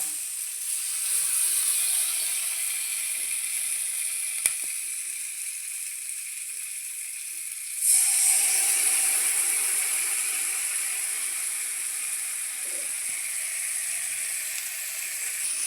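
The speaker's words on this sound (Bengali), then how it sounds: "মশলাটা ভাজা হয়ে গেলে তখন দিয়ে দেবো কালো" Ground spices of cumin, chilli and ginger sizzle in a hot pan in a home kitchen, a continuous bright hiss that shifts and swells partway through as the frying changes.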